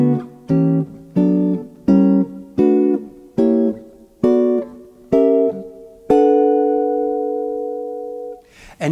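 Jazz guitar alternating major sixth and diminished chord voicings in the Barry Harris style, eight plucked chords in a steady rhythm, the last one left ringing for about two seconds, close and clear with no talking.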